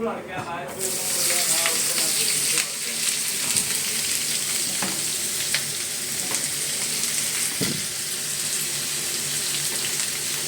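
Mustard seeds frying in hot oil give a loud, dense crackling sizzle that holds steady from start to finish. A few utensil knocks sound close up, and no one talks.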